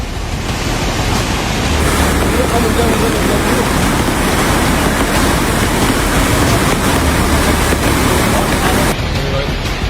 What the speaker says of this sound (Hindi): भारी बारिश से नदी में आए सैलाब में घाट डूब गए